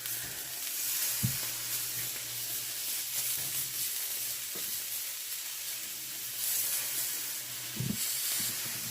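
Unpeeled garlic cloves and tomatoes sizzling on a griddle beside meat, a steady close hiss with occasional spitting pops and a few clunks, running continuously for several seconds.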